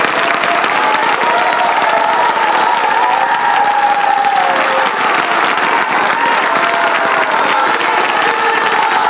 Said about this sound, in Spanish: Las mujeres aplaudiendo.